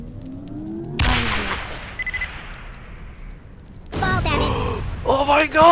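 A weapon shot fires in Worms Reloaded amid fire, mines and barrels, a sudden loud blast at about one second that decays into rumble, followed later by more bursts and game effects while players talk.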